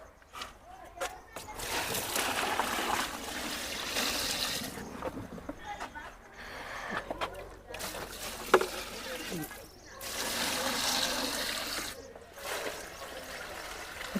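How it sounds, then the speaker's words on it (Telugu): Water poured into a container of plants for liquid fertilizer, in several gushing, splashing bursts with short pauses between them, close by, and a voice speaks in between. "ఇప్పుడు నేను వాటర్ వేస్తాను దాని నిండా నీళ్ళు పోసేసుకుంటాను"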